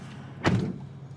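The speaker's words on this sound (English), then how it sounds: "Okay, so I have the interior lights on, got the door open, I shut the door" A single muffled thud comes from the door of a 2024 Infiniti QX50 shutting at night, one short, close, low impact with a brief rattle after it and quiet on either side.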